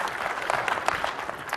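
Conference audience applause at a Microsoft Exchange Conference session, a dense, even wash of many hands clapping for a short moment, fairly loud and without speech on top.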